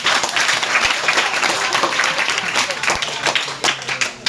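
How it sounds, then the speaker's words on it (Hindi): Classroom applause for a student who answered correctly: a short, loud burst of many hands clapping together, dense and steady, with a few stronger claps standing out. "ताली बजाइए इनके लिए"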